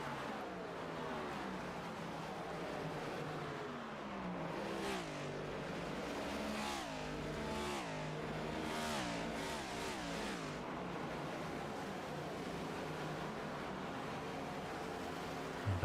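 Race cars in the HTL Team Conti 400 sim racing game whine and rev continuously, engines rising and falling through gear changes as several cars pass, fairly faint and steady throughout, with no voices.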